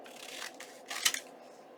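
Scissors snip faintly through paper for a junk journal, a few soft cuts and rustles followed by one sharper close snip at the end.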